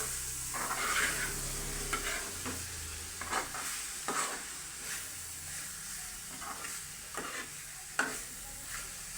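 Chicken curry being stirred in a pot with garam masala and chili powder, a steady sizzle running under repeated scrapes of the spoon against the pot, close and moderately loud, with no talking.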